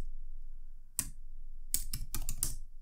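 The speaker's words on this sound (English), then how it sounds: "now what we need to do is just type dot title, and then we type font weight like this," Quick bursts of keystrokes on a computer keyboard while typing CSS code, a lone click near the start followed by several clustered taps later, close and clear against a quiet room with no talking.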